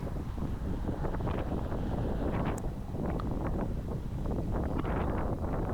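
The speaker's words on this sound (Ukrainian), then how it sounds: "Сьогодні трохи вітряно." Wind gusts rumble against the microphone in a continuous low roar, with some faint rustling and brief higher sounds, steady and moderately loud.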